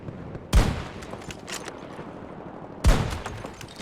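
Two sharp, loud sniper rifle shots from the shooter game Battlefield 2042, spaced about two seconds apart, each a sudden crack with a short decaying tail over a low ambient game background.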